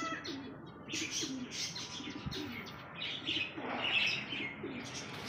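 Pet pigeons or doves cooing repeatedly at a market bird area during feeding, soft rolling coos mixed with chirps and tweets at close range, with no talking over them.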